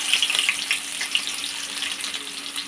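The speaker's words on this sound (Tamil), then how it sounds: "பூண்டு நல்லா வறுபடட்டும்" Crushed garlic cloves frying in hot oil with popped mustard seeds, a steady close bright sizzle with small crackles, continuous and alone without voices.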